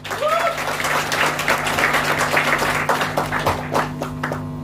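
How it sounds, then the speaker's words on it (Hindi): Loud, sustained audience applause at a talk or felicitation event, dense clapping filling the whole stretch without pause, with a steady low hum underneath. "उसके बाद मैं एक जोरदार तालियां चाहूंगा मेरी मेंटर"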